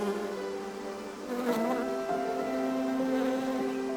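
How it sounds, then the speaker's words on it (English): Bees buzz around garden flower beds and borders in late spring, a steady droning hum with several overlapping tones that shift in pitch as individual insects pass close by, continuous and fairly loud throughout. "our flower beds and borders are abuzz with bees"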